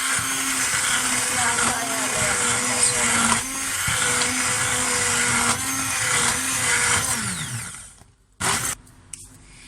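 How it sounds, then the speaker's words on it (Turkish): A blender purées soup, roaring steadily for about eight seconds with a loud motor whine, then cuts off, followed by a few brief clunks. "Çorbamız artık blenderdan geçirme vakti geldi."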